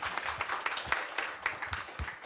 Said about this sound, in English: Round of applause for all the panelists here.